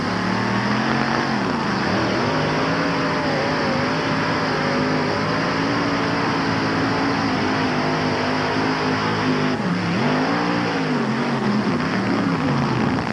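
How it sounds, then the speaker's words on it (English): A pulling tractor roaring through a 1988 NTPA tractor pull run at Syracuse, a continuous loud, harsh engine howl with rising and falling pitch swells, close and overwhelming throughout. "Ron Crooks can't keep it between the lines as the Pepsi generation sends engine parts flying"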